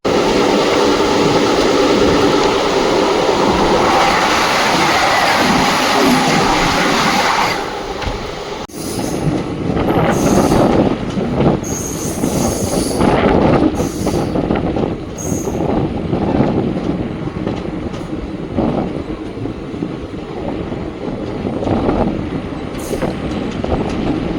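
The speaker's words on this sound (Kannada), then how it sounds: "532 ಕಿಲೋಮೀಟರ್ ಕವರ್ ಆದಮೇಲೆ ನಮ್ಮ ಟ್ರೈನ್ ಬಂದೈತ್ರಿ ಈಗ SMM ಹಾವೇರಿಗೆ" Vishwamanava Express pulling into Haveri station on the Mysore to Belagavi line, a loud steady rumble of railcars and wheels with clickety-clack, shifting to rattling carriages and squeals as it slows, no voices.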